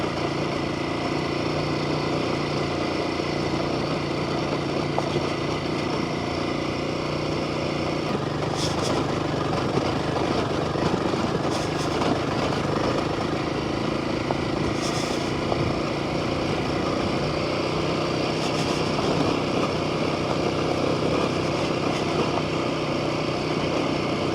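A Royal Enfield Himalayan 450 motorcycle rides off-road in second gear on upgraded tires, its engine holding a steady mid-pitched drone throughout, with a few brief higher rattles and clunks over rough ground.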